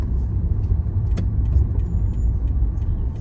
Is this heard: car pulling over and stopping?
yes